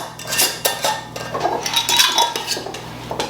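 Glass canning jars of bone broth having lids and rings screwed on finger tight, giving a near, steady run of clinks, taps and light scraping of metal on glass with no talk.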